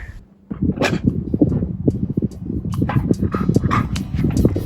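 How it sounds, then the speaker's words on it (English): A dog makes excited, agitated noises up close, a continuous stream of yips and whines with short bursts. "my dog is going crazy over something that he either hears or sees over there"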